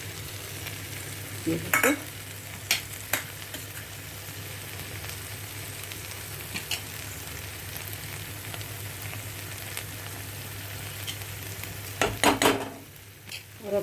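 Masala sizzles steadily in a kadhai pan for kadhai paneer while a spoon scrapes and stirs it in a few sharp bursts; a voice speaks briefly near the start.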